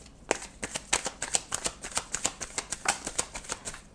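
Tarot cards being shuffled by hand, a steady run of close, crisp riffling flutters repeating several times a second, fairly quiet and without talk.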